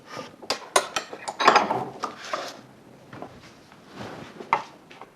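A metal marking gauge with a cutting disc scores lines into walnut and ash for a half-blind dovetail joint, giving several short, crisp scraping strokes and taps close by, then quieter scratching.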